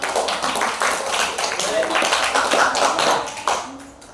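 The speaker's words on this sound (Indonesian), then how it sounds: "Terus tepuk tangan buat ini." Children in an elementary math class clap together, a dense patter of quick overlapping hand claps running steadily for several seconds with voices mixed in.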